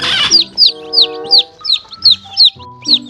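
Chickens cluck in a quick series of sharp, high calls, about eight in a row, close by, over some low background murmuring.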